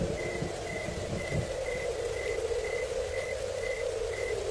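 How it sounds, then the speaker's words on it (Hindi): Light night rain in a Hindi horror cartoon, a soft steady patter beneath a regular chirping insect call that repeats at an even pace, with a low rumble near the start. "हल्की हल्की बारिश शुरू हो गई।"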